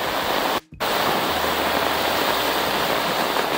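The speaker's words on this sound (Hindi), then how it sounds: "अभी देखिए पानी इतना बड़ा हो गया। पहाड़ पे बारिश गिरने से पानी बड़ा होता है।" A mountain stream swollen by rain on the hills rushes in a loud, steady, broadband roar that fills the whole clip, broken only by a brief drop in sound near the start.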